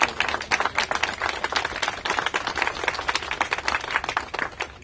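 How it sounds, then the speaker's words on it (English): Lawmakers' audience applauds federal employees during remarks on a government shutdown, with sharp, distinct individual claps forming a steady, close round of applause. "Let's give them all a big round of applause."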